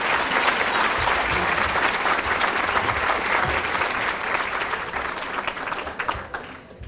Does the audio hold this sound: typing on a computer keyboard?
no